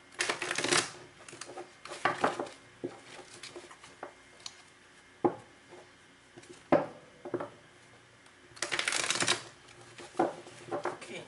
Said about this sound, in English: Two more shuffles here, and then we can cut the cards.